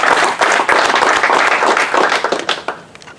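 A small group applauds, the clapping dense at first and then thinning out into scattered claps before fading.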